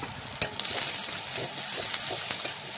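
Onions frying in oil in a pan for a Bengali fish curry, a steady close sizzle with a few sharp spatters and light stirring scrapes running throughout.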